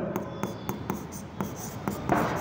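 Chalk or marker tapping and scraping on a board as figures for a company liquidation accounts problem are written out, a run of short, evenly spaced strokes at close range with no talking.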